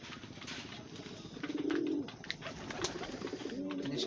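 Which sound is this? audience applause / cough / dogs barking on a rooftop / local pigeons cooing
local pigeons cooing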